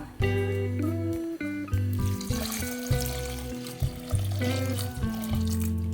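Water pours steadily into a pot of moong dal sambar for several seconds, about two cups, a full ringing gush with the pitch shifting as the vessel fills, heard up close.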